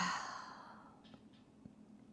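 An open-mouth yoga exhale, a long breathy sigh that fades out gradually, followed by a couple of faint soft movement sounds in a quiet room.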